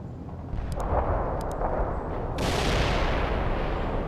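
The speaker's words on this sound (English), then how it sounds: "Heavy artillery barrage inbound." A heavy artillery barrage in the video game World in Conflict lands as a dense, rumbling roar of blasts, with two brief high beeps early and a bigger burst that swells midway and holds loud.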